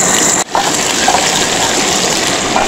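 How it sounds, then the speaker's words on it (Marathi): River water rushing steadily beside a riverside night campsite where crabs were caught, a loud, unbroken broadband roar close by, briefly interrupted by a sharp dip near the start. "पाण्याचा आवाज बघा बाजूला मस्त आहे."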